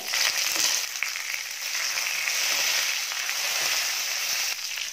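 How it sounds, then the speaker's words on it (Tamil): Urad dal, chana dal, dried red chillies, garlic and curry leaves fry in hot oil with mustard seeds and cumin, giving a loud, steady crackling sizzle that fills the whole stretch. "எல்லாம் சேர்த்ததுக்கப்புறம் பருப்பெல்லாம் நல்லா பொண்ணு வறுவலாக வரணும்"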